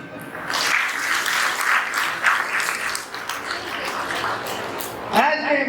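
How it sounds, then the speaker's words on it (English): Audience applause fills a school parents orientation hall, a steady wash of many hands clapping that swells and continues for several seconds, with a brief voice near the end. "I request all of you to give a big round of applause to yourself"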